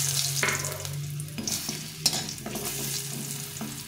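Bori lentil dumplings fry in hot white oil with a continuous sizzle, interrupted by several distinct stirring scrapes and knocks against the pan.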